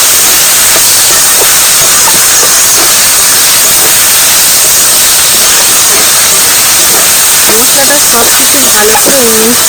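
Potato slices fry in hot oil with a steady, loud hiss and sizzle while being stirred, and a person talks briefly near the end.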